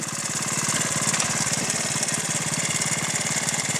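A 1978 Honda Z50 mini trail motorbike engine running with a fast, even putter, close and loud throughout.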